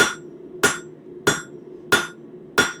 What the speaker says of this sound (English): we're using our favorite hammer, the cross peen hammer